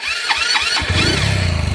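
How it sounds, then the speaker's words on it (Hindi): A stripped-down naked motorcycle engine starts in a village: a few cranking pulses, then it catches and settles into a loud, steady, throbbing idle close by, with no talking. "गाड़ी स्टार्ट हो चुकी है दोस्तों।"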